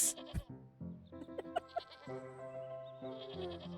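A sheep in the video game Wytchwood bleats in a couple of wavering calls over soft game music and effects, fairly quiet and clear.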